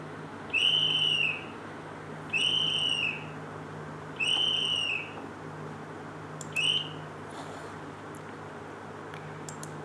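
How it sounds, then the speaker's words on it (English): Four shrill whistle blasts sound loud and close, the first three long and evenly spaced, the fourth short, with quiet background between them. "You must have heard the whistling sound of a whistle."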